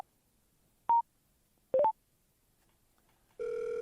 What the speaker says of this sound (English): That'll dial your latest outbound call.